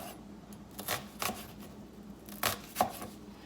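Knife chopping an onion on a cutting board, a few sharp, quiet taps spaced irregularly, close up with no talking.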